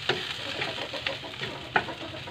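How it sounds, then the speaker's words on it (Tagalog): Shrimp dry-roast in a pan, giving a faint crackling sizzle broken by a few sharp clicks and taps as they are stirred and shifted, close and quiet with no talking. "Nagbusa tayo ng hipon."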